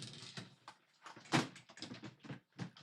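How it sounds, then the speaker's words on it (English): A drawer being opened and closed during a card-making session: a string of faint sliding scrapes and soft wooden clunks in irregular bursts, with no one talking. "Oh, that drawer."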